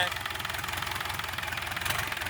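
A Hino WO4D 120-horsepower diesel engine idles with a steady, rapid knocking chug, close and continuous, with no talking.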